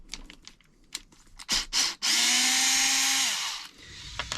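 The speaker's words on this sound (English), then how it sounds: "I'm gonna go ahead and take the screw out of here." A screw being removed from a Losi Baja Rey RC car: a few clicks and short bursts, then a sustained close power-driver whir lasting over a second that winds down, followed by light handling clicks.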